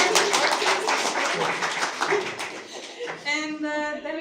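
Dense audience applause fills a DevOps meetup hall for about three seconds, then gives way to a voice speaking close by.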